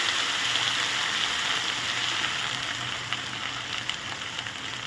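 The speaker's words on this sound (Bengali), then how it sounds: "এবার আদা বাটা দু চামচ দিয়ে দিচ্ছি কিছুক্ষণ নাড়িয়ে নিয়ে" Ginger paste frying and being stirred in a pan while cooking bhuna khichuri, a steady close sizzling hiss that keeps going throughout, with a few faint scrapes near the end and no talk.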